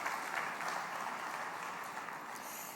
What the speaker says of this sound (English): I think that does deserve a round of applause